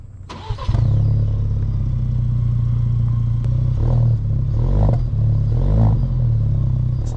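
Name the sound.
2021 Roush Ford Ranger pickup truck driving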